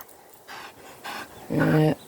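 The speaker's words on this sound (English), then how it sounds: "Bold dog took off." A dog pants in three short bursts, the last one louder and closer with a slight whimpery tone, heard outdoors on a boggy walk with no talking over it.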